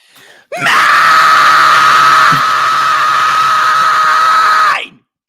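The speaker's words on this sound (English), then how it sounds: "Scream if you want to go faster." A single long, loud scream holds steady for about four seconds, close up and unbroken, then cuts off abruptly.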